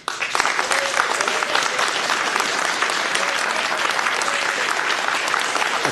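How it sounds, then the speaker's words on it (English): Dense, sustained clapping from an audience at a public hearing in a theater, loud and continuous throughout. "I need to ask you to refrain from clapping, please."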